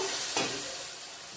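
Fried potatoes and pointed gourd tipped into a sizzling pan of spiced curry base, a quiet hiss with a brief burst of stirring and scraping near the start, then a faint, fading sizzle.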